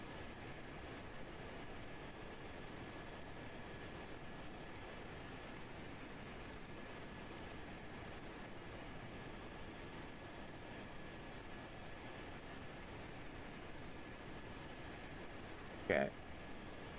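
A rocket engine in the game Kerbal Space Program: a steady, even roar with a constant hiss held at one level throughout, and a brief sharp blip near the end.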